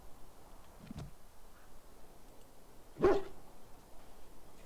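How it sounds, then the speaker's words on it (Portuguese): A dog in Dragon Age: Origins barks excitedly, two short separate barks at a moderate distance, the second louder, over a low quiet background. "Ele está ao redor latindo animadamente."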